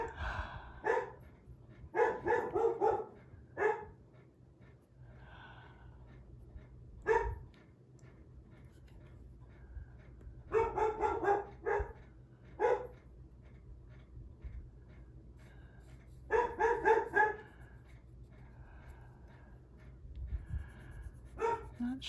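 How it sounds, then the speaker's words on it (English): A dog barks in repeated clustered bursts, fairly close, with quieter pauses between volleys and a low steady hum underneath. "I have no idea what he's barking at."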